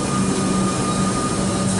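A Melbourne suburban electric train pulling out of the rebuilt Glenroy Station, a close, steady loud rumble with a faint motor whine and no voices.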